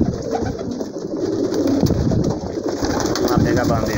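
Pigeons in a loft cluster around a feeding tray, a dense mix of cooing and wing and beak activity running steadily throughout at close range, with a faint voice in the background.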